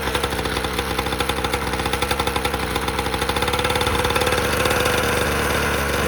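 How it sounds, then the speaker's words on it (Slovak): A 50cc two-stroke minibike engine idles at lower revs, a steady close, loud rapid putter that swells slightly toward the end, with no talking. "Budete počuť, že ten motor má ako keby nižšie otáčky"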